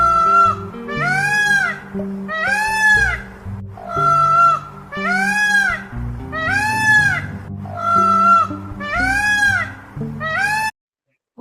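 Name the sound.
peacock call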